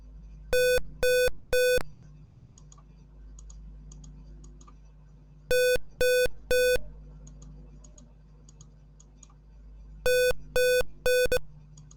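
Three quick electronic beeps from a safety box buzzer after repeated wrong password entries, then repeating in two more groups of three after pauses, over a quiet low hum.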